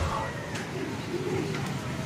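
Pigeons coo softly in the background over a steady outdoor hiss, with a few faint calls spread across a couple of seconds.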